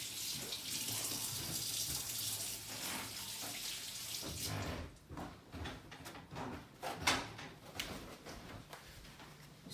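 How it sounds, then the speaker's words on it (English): Hands washed under running kitchen tap water, a steady hiss of flow for several seconds followed by splashing and intermittent rinsing taps as the stream is broken up. "I'm just going to wash my hands really quickly"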